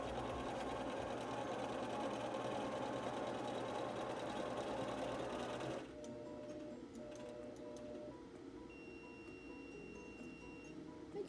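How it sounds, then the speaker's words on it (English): An Intelliquilter computerized quilting machine stitches a diagonal crosshatching line, a loud steady rapid mechanical whir that suddenly drops to a quieter hum with faint ticks and a thin electronic tone. "Intelliquilter is going to stitch the next diagonal line"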